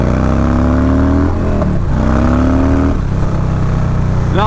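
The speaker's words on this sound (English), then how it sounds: "Let's give it some throttle." A 2020 Harley-Davidson Low Rider S with a Stage 1 setup revs up loudly and close, its engine note climbing in repeated rising sweeps as the throttle opens, with a brief dip between pulls.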